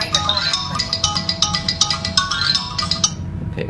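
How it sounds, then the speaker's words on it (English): A doorbell ringtone plays a bright, rhythmic chiming melody of quick repeated notes for several seconds, fairly loud, with faint background noise beneath. "every time the visitor press the doorbell, your ringtone will change"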